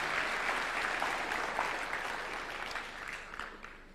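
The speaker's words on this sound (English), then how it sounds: "Let's give a round of applause to our President as he receives that document." Dense, steady applause from a large audience for the President at a health event on the Every Woman Every Newborn Everywhere Acceleration Plan, sustained at moderate level and easing slightly toward the end.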